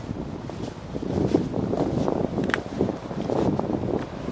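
Light spring wind blows outdoors, a soft, steady rumble with gentle gusts buffeting the microphone, plus faint rustling and scattered small knocks close by.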